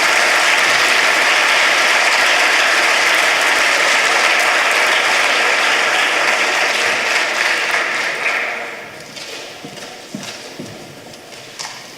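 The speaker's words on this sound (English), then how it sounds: "Give them one more round of applause" Loud, dense audience applause at a science contest prize ceremony, sustained for about eight seconds before fading into scattered claps.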